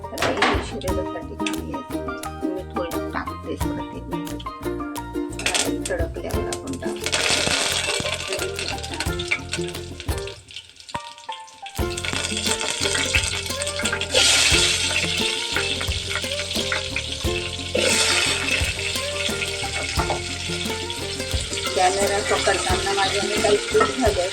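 Mustard seeds crackle and sizzle in hot oil, tempering for a red-gravy val papdi vegetable dish. A steady, hissing fry spreads through most of the clip, with a brief quiet gap midway, under a speaking voice and other kitchen sounds.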